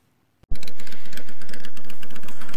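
A Honda Shadow Aero 750 motorcycle engine starts abruptly after a brief silence and runs with a steady, loud, close rumbling chug.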